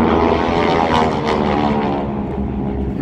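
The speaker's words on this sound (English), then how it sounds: "This is probably one of the most successful advanced training aircraft ever produced." A North American Aviation advanced training propeller plane passes at an air show, a loud, rough radial-engine drone that swells and then slowly fades.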